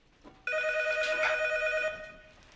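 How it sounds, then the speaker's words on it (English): A telephone rings in a Breaking Bad episode, a steady electronic ring tone that starts abruptly and holds loud for about a second and a half, then fades out. "A phone call."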